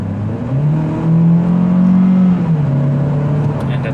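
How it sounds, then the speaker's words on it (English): Engine of a 2017 Opel Mokka X 1.4T automatic 4x4 rising in pitch as it accelerates from 50 to 70, heard from inside the cabin, a steady droning roar that climbs then settles. "we accelerate from 50 to 70, and then you're just gonna hear how loud it gets in the car"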